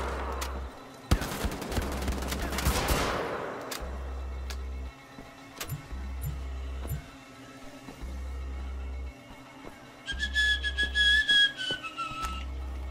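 Gunshots in Wolfenstein: The Old Blood, a loud burst of firing early on with a long ringing tail, then scattered sharper cracks against a pulsing low game ambience and a rising whistle toward the end.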